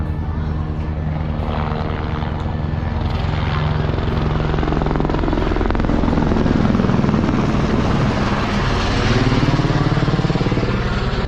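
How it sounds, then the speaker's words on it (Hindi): Helicopters fly close along the Vaishno Devi pilgrimage route, a loud, continuous rotor thump and engine drone that holds steady throughout without any speech. "और यहाँ पर खूब सारे हेलीकॉप्टर चल रहे हैं, आप देख सकते हो।"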